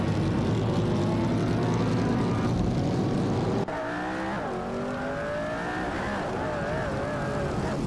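Race cars roaring in a video game, with a loud continuous engine drone that shifts pitch abruptly partway through as the view or car changes, and high revving harmonics that rise and fall throughout.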